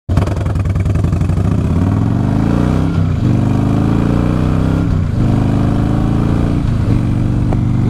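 A motorcycle takes off from a stop and accelerates hard, its loud engine rising in pitch through three gear shifts, heard up close and continuously.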